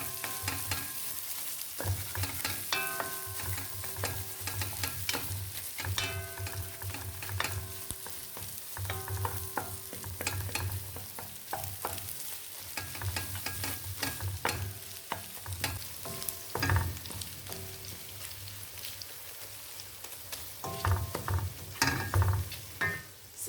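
Eggs sizzling and frying in a pan for Cantonese-style fried rice while a utensil stirs and scrapes, steady loud sizzle with frequent clinks and scraping strokes throughout.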